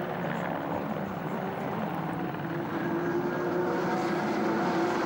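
A Porsche Carrera Cup race car at Nogaro is heard onboard, its engine a steady, sustained drone with wind and road roar filling the cabin, fairly even in loudness throughout.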